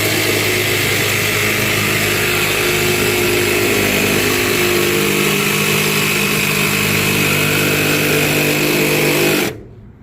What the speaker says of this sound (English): we're running the Milwaukee Fuel.